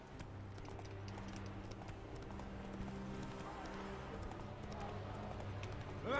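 Roach the horse galloping in The Witcher 3, a rapid steady clip-clop of hooves over a low rumble, continuous and fairly close, with speech faintly underneath.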